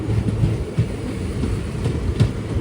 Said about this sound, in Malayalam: 6:38 ട്രെയിൻ ഇതാ തിരുവനന്തപുരം നോർത്ത് സ്റ്റേഷനിലേക്ക് എത്തുകയാണ്.